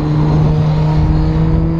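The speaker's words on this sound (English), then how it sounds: "That was a Suzuki Hayabusa." A Suzuki Hayabusa motorcycle goes by as a loud, continuous engine drone with a steady low hum that dominates the whole stretch. No one speaks.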